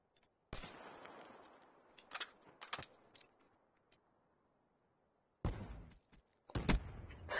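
Gunfire from a video game gun: several short, sharp bursts of shots separated by near-silence, some crisp single cracks and some clustered rapid volleys, close and fairly loud.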